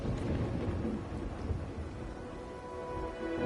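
Thunder and steady rain in the Wuthering Waves video game, a low continuous rumble under a wash of rainfall, loud and close throughout with no voices.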